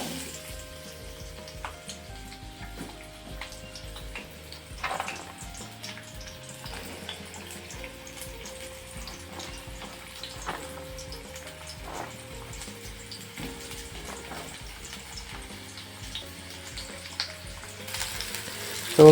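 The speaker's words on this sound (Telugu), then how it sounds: "స్పూన్ ఆఫ్ ఆయిల్ వేసిన తర్వాత ఫస్ట్ ఆనియన్ని లైట్గా ఫ్రై చేసుకోవాలి" Onions frying lightly in a spoonful of oil for a home-cooked paneer curry, a steady soft sizzle with occasional stirring clinks and scrapes, under a backing of music.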